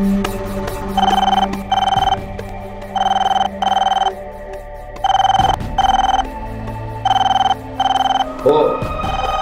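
A telephone bell rings in repeated bursts, each lasting under a second with brief pauses between, loud and close over faint background voices.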